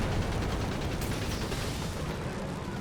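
Tank-on-tank battle gunfire in Company of Heroes 3, with Panzerschreck shots from Grenadiers striking a recovery vehicle: a dense, loud, continuous roar of shots and blasts with no pause throughout.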